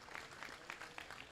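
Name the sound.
audience applause at a gilt sale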